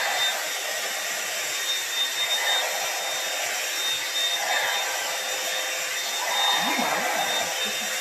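A hair dryer on high heat blowing through 4c low-density hair, a loud, steady, close whooshing whir that runs continuously without a break.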